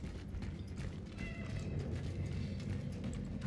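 A cat meows in Cronos: The New Dawn, a soft, steady in-game mewing over a constant low rumble of game ambience, with no talk over it.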